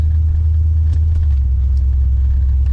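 Classic Dodge Demon Mopar car with an aftermarket Year One shifter, heard from inside as it drives, a steady low engine rumble running throughout, with no voices.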